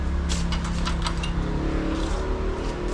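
A rough, steady motorcycle engine rumble runs throughout, loud and close, with a low idling drone and no speech; the engine is misfiring and due for a tune-up and timing.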